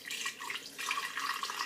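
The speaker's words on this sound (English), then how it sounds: "I'm going to pour it into my blender." Water pours from a full cup into a kitchen blender, a short, soft splashing trickle that runs steadily for under two seconds.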